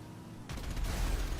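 Explosive weapons go off in the video game GTA V: a sudden burst of booming blasts and crackling fire, loud and close, rolling into a dense rumble after a quiet start.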